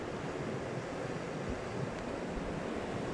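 Ocean waves wash steadily against a shore, a soft continuous surf rush with faint wind, quiet and distant, with no voices.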